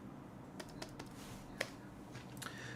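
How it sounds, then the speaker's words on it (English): Fingers tap a calculator keypad, a handful of quiet, irregular clicks over low room hiss. "Type in the calculator."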